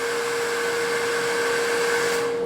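A 1900-watt hair dryer running steadily, a loud constant whirring hum with a strong tonal whine, unbroken throughout.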